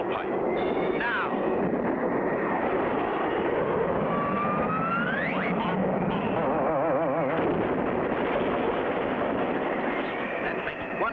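A cartoon air race plane's engine at takeoff, a rough droning roar with whistling and rattling effects layered over it, running continuously and fairly loud, with some whooshing pitch sweeps partway through.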